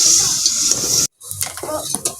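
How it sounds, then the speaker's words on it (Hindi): Potatoes sizzle and crackle while frying in a pot, with scraping stirs from a spoon, then a short pause and more stirring and sizzling close up. "मैं आलू पा दिते ने ते मैं इस तरह भुनी ला ली"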